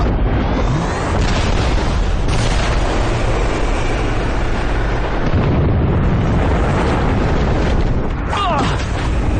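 A loud bomb blast in a film scene erupts as a sustained roaring rumble, with bursts and booming debris continuing for several seconds and a bright crackling tail near the end.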